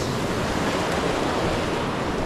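Steady surf from the ocean at an extremely low tide, where crayfish are hunted along the shore; a continuous broadband wash of waves with no talk.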